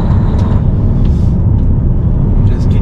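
A truck pulling away, a loud close low-pitched engine rumble that holds steady throughout with a brief hiss like an air brake.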